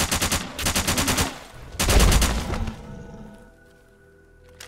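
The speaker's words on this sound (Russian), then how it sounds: "На звуки выстрелов, что ли, прибегают?" Rapid bursts of gunfire in the game S.T.A.L.K.E.R. rattle off in two loud volleys, followed by a heavy blast that fades into a lingering ringing tail.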